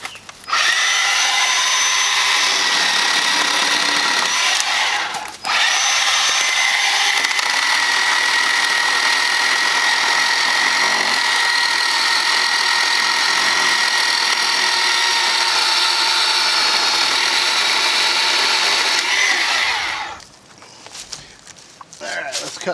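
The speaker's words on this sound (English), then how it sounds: "we're gonna try the old chainsaw on it and get it out of the path here" A Bauer 20V cordless chainsaw cuts through an old rotted tree on an outdoor path, giving a loud, steady motor whine that runs for about twenty seconds with a brief dip early on before cutting off.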